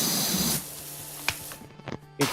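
A pressure washer spray nozzle in PowerWash Simulator 2 hisses in a steady broad jet for about half a second, then cuts off, followed by a few faint clicks and short bursts.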